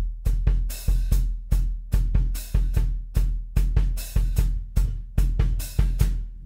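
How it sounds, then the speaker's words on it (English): A drum set plays an ostinato pattern mixing open and closed hi-hats over a steady kick and snare, sharp repeating hits in a tight groove, close and loud with no speech. "So the first open and closed hi-hat would be on beat two,"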